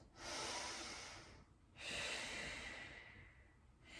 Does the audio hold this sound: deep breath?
yes